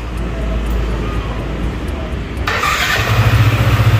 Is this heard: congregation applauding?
no